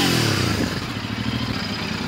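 A Royal Enfield Hunter 350 motorcycle engine at a showroom after servicing, giving a loud, close, continuous low thumping rumble with a rapid pulsing beat and no talk.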